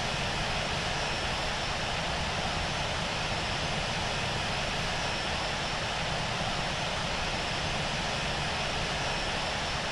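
Steady, dense airliner engine drone from Infinite Flight as the jet taxis to parking on the Melbourne to Sydney route, a constant broadband roar with no voices over it.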